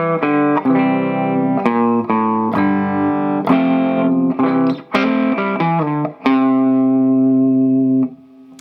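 A distorted electric guitar plays a walk-down lick of plucked and bent notes with short gaps, ending on a long sustained note that rings out and stops abruptly.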